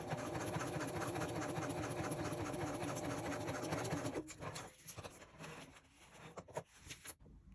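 A sewing machine stitching a wristlet runs in a quiet, rapid, even stitching rhythm for about four seconds, then stops, leaving faint scattered handling sounds.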